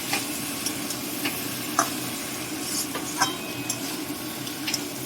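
Prawns stirred with spices in a pan, a continuous close sizzle with repeated scrapes and taps of a spatula against the metal at an irregular pace, no voices.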